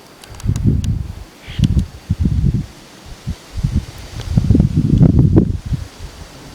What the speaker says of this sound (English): The wind of the oaks and the junipers.